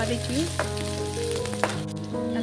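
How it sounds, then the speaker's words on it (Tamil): Onions sizzle in hot oil in a pan, a steady frying hiss with a couple of sharp stirring clacks and a low tonal hum underneath. "எண்ணெய் ஊற்றி எண்ணெயில் வெங்காயம் போட்டு"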